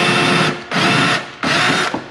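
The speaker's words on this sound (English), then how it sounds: "So now I can drill my 5/8 inch holes for my toggle bolts and get this back plate mounted." Power drill boring 5/8 inch holes through drywall for toggle bolts, three loud close bursts of whirring separated by short pauses, with no talking.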